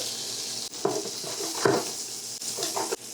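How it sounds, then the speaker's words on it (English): Peppers and onions sizzle steadily in butter in a pan, a close, continuous hiss broken by a few soft clinks and stirring scrapes. "So now we're going to just drop our peppers and onions in just so they can sweat."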